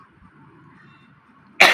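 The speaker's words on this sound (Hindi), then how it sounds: "थोड़ी सी खांसी हो रही है, माफी चाहता हूँ" After near silence with faint background hum, one sharp, loud cough bursts out close by at the end.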